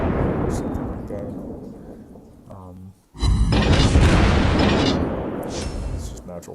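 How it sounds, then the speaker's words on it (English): Heavy naval gunfire from the Gneisenau's secondary guns in World of Warships Blitz, a sustained rumbling barrage that briefly thins and cuts out, then resumes with a loud, dense burst of booms close up. "I switch to my secondary guns and shoot just to get the rounds out right away"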